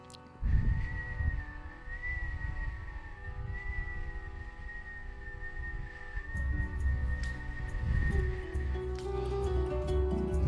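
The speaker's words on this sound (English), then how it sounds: "Now, this time, whistle your exhale." A long, steady whistled exhale holding one wavering pitch for several seconds, with a low hum of music underneath.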